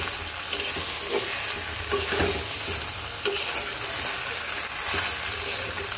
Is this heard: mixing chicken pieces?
yes